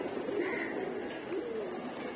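Pigeons in a sky pigeon loft give faint, low cooing calls, a couple of soft warbling phrases heard at a distance over a quiet, even background hiss.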